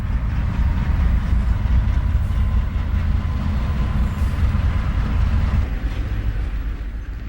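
Santa Fe eastbound hotshot freight train 991 sweeps by near Harlem Avenue, a loud, continuous rumble of heavy rolling wheels and rail noise sustained throughout, swelling slightly mid-pass and easing toward the end.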